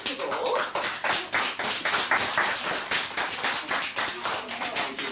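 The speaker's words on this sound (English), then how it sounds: "I think we owe them a very big round of applause" A classroom of children clapping together in a fast, sustained burst of hand claps that fills the room for several seconds, loud and close, with no talk over it.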